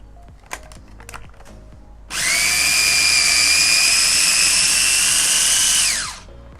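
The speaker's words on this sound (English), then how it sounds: "sometimes you have to press down the basil to make sure it all gets chopped evenly" A food processor chops basil with olive oil, starting abruptly after a few light knocks and running as a loud, steady whir for about four seconds before spinning down.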